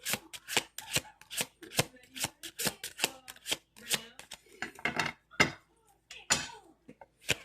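Tarot cards riffled and shuffled by hand in fast, crisp bursts of papery slaps and flutters, close and fairly loud, with brief pauses between bursts and a voice speaking now and then.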